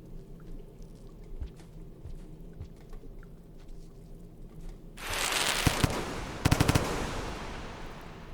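Firecrackers go off in the Rain World video game, a burst of crackling pops erupting after quiet ambience, with a second quick cluster of sharp snaps.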